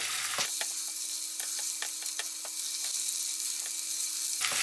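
Oil sizzling steadily in a pan as rice pilaf ingredients fry, a bright continuous hiss with a light scrape or tap of stirring now and then and no talking.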